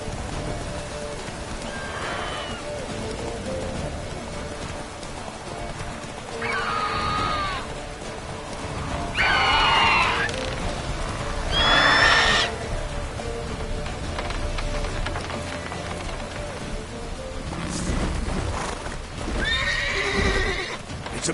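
A horse in The Witcher video game clip-clops along and lets out several loud neighs and whinnies over a rain-like backdrop, with no talking.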